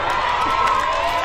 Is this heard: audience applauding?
yes